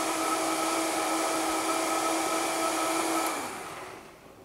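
A kitchen blender whirls crepe batter with loosely packed parsley, a loud steady motor whine that holds for about three seconds, then spins down and fades.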